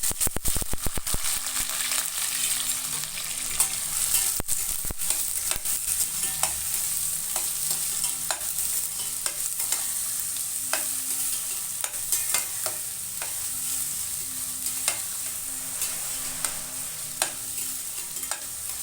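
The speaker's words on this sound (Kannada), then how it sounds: "ಎಣ್ಣೆ ಕಾದಿದೆ ನಾನು ಈರುಳ್ಳಿ ಮೆಣಸಿನಕಾಯಿ ಸೇರಿಸ್ತಾ ಇದ್ದೀನಿ" Chopped onion and chilli frying in hot oil for jhunka, a loud continuous sizzle broken by repeated sharp scraping and stirring clicks of a spatula against the pan, close up throughout.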